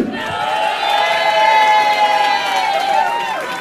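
A crowd cheers and shouts loudly for a band member, a steady, dense roar of voices with a sustained whistle-like tone running through it, continuous for several seconds.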